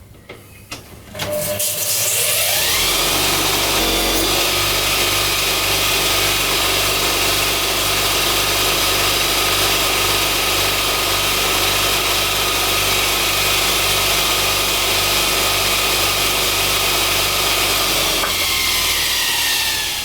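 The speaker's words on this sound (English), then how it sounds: "I'm just going to use this wheel here to clean off all the stain, surface rust" A power tool fitted with a cleaning wheel strips stain and surface rust from a part of a classic car, starting after a brief pause and running loud and steady for most of the clip, then winding down near the end.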